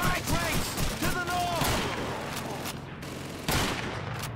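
Rapid bursts of gunfire ring out in Call of Duty 2, a World War II shooter, with dense overlapping shots and a voice speaking over the battle noise.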